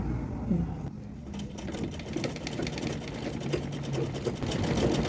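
Domestic sewing machine stitching a princess cut blouse, running continuously with a steady, busy mechanical whir throughout, close and fairly loud, with no talking.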